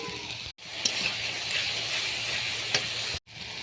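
Spice masala for a fish curry, with turmeric, chili powder, ginger paste and salt, sizzles steadily in hot oil up close, with faint stirring clicks and two brief cuts.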